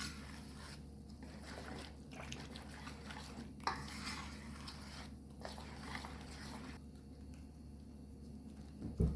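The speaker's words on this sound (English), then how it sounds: "And I'm just going to just mix until everything is combined." Dry ingredients are mixed into wet batter for a Jamaican Easter spice bun, producing soft rhythmic scraping and sloshing strokes in a bowl, close and quiet over a low steady hum.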